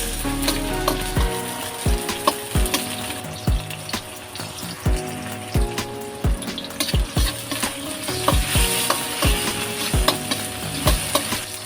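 Onion and tomato sautéing in a pan after garlic for ginisang upo, a steady close sizzle with repeated scrapes and clinks of a spatula stirring throughout, no talk.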